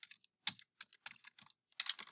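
Someone types on a computer keyboard in short, irregular bursts of light clicking keystrokes, close and fairly quiet, with a heavier double strike near the end.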